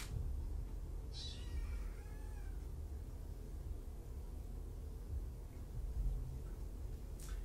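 A kitten meows among a household of kittens and an adult cat, its calls brief and fairly faint over a steady low background hum, with a couple of short mewing bursts spread across the stretch.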